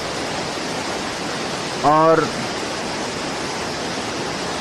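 Rushing river water pours into a cave entrance behind an old temple in a Himalayan valley, a steady broadband roar throughout, with one brief spoken word midway.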